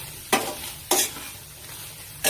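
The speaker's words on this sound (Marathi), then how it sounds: "शेंगा भाजत आहेत बघा" Cluster beans are being roasted in a pan. A utensil stirs them with three sharp scraping sweeps over a soft, steady sizzle, and no one speaks.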